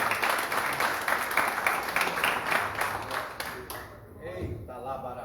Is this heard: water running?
no